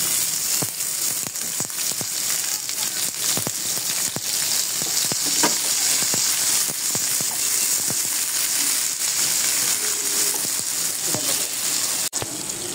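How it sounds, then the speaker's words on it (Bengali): Onion paste sizzles in hot oil in a pan, a continuous close frying crackle with scattered sharp pops and faint clinks of stirring, fairly loud and steady throughout, with no talk. "এখানে কিছু পেঁয়াজ বাটা দিয়ে দিলাম, তেল দিয়ে দিলাম পরিমাণ মতন।"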